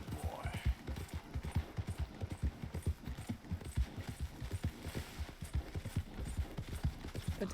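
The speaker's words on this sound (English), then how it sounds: "You're doing great, horsey." Horse hooves clip-clop steadily in Red Dead Redemption, a fast, even rhythm of close, loud hoofbeats that runs through the whole stretch with no talking over it.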